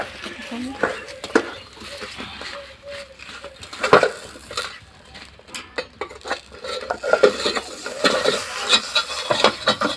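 Fish paturi is turned over in a frying pan on a home stove, with soft scraping and clinking of utensil against pan and light sizzling, intermittent and fairly quiet beneath someone talking.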